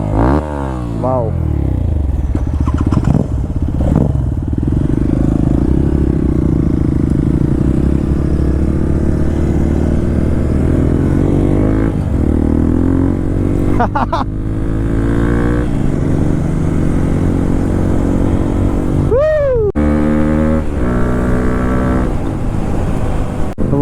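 A motorcycle engine rumbles steadily while riding, its pitch climbing and settling through gear changes, with wind buffeting throughout.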